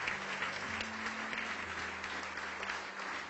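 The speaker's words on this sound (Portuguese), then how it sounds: "E vamos aplaudir ao Senhor Jesus por cada vida que está chegando." A church congregation applauding during an evangelical service, a steady wash of many hands clapping together, moderately distant and even, with a faint low tone humming underneath.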